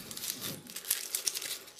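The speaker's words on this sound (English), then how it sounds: "peel an onion" Dry papery onion skin crinkles and tears in short crisp bursts, close and fairly quiet, during a power cut.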